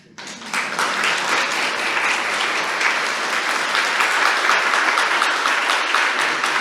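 Participants in a satsang spiritual gathering clap together, a sustained, dense wash of applause that starts abruptly and holds steady and loud for several seconds.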